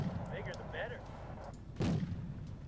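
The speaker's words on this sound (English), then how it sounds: "Let's use the mortar on the command vehicle." Mortar fire in the wargame Wargame Red Dragon, a single booming launch thump partway through, set against a steady low rumble of battlefield ambience with a few faint background sounds before it.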